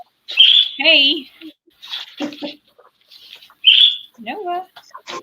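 An indoor pet bird gives several loud, close chirps and warbling squawks in separate bursts with short silent gaps between them.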